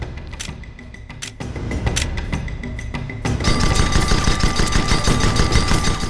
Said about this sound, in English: Shoot at that target dummy's hull till it breaks.